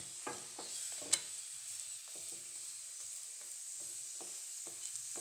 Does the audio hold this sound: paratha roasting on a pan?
yes